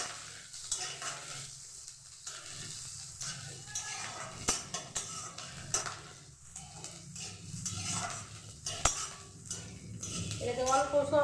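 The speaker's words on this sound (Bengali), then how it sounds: "একটু লাল লাল করে ভাজতে হবে।" Chopped onion and a green chili frying in hot oil, a quiet sizzle under occasional utensil scrapes and clinks of stirring in the pan, building slightly toward the end.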